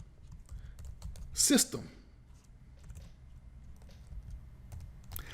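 Computer keyboard typing Java code for a TestNG test, soft irregular key taps mixed with a louder scraping burst, under a man's speech.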